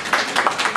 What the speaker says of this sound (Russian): Браво, аплодисменты.